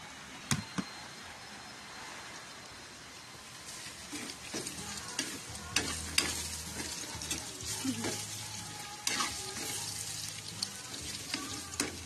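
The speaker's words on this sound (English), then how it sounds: "I need to fry the hot dog first." Hot dogs fry in a pan for a low-budget menudo, giving a steady close crackling sizzle with scattered louder pops and stirring scrapes throughout, no talking.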